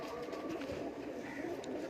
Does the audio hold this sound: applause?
no